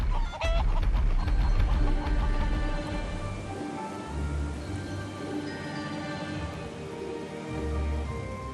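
Hens cluck in the video game Haunted, several birds giving steady overlapping clucks, close and clear, over a low droning game backdrop with no speech.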